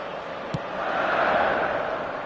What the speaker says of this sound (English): The crowd reaction tells you just how close that was.